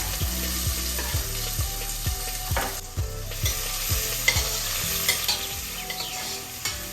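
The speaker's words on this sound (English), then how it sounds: "I heated some oil in a pressure cooker. Saute 1 large onion that's sliced for just a minute." Sliced onion sizzles steadily in hot oil in a pressure cooker while a utensil stirs and scrapes against the pot in a regular rhythm, close and moderately loud, with no talking.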